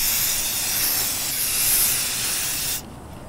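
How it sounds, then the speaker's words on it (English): Waterproofing spray aerosol being sprayed onto a shirt: a loud, close, continuous hiss lasting nearly three seconds, then cutting off abruptly to quiet. "So we sprayed down the shirt."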